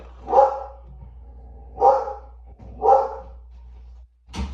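Three sharp barks from a small dog ring out nearby at a slow, even pace over a quiet room, ending with a short clatter.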